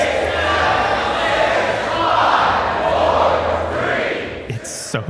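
A large audience roars and yells continuously during a light-switching stunt, a loud, dense wall of cheering that holds for several seconds before cutting off abruptly.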